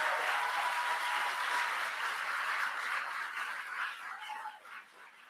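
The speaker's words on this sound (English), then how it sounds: "he stood up and clapped for that" A political rally crowd in Rocky Mount, North Carolina breaks into sustained applause, a dense, distant roar of clapping that holds steady and then fades away.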